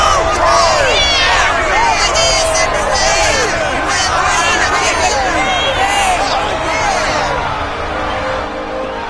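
Crowd of fans cheering and shouting in the video game Dragon Quest 11, a dense, loud roar of many excited voices with whoops rising and falling throughout, steady from start to finish.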